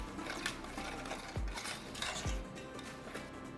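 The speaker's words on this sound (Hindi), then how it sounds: "सिंपली इसमें हम डालेंगे ऑयल और इसे हम अच्छे से मिक्स करेंगे" Oil being stirred into a spice masala in a pan for aloo baingan sabzi: a spoon scrapes and clinks against the metal pan a few times, with soft mixing sounds between the knocks and no talking.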